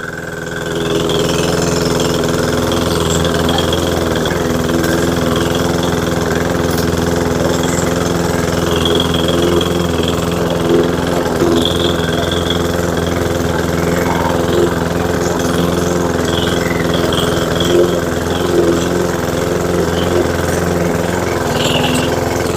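A rotary lawn mower with an old, worn blade cuts St. Augustine grass, its engine droning loud and steady with a constant mid-pitched hum and slight fluctuations as it moves, with no talking.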